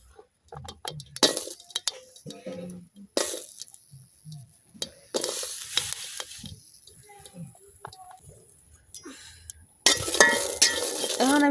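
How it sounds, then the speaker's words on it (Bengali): Chillies frying in a pan for a dried fish mash give bursts of crackling sizzle between pauses, with clinks and scrapes of stirring, and a louder steady frying hiss toward the end. "আমি কিন্তু প্রথমে মরিচগুলো ভাজা লইতেছি শুটকির ভর্তার লাগিয়া।"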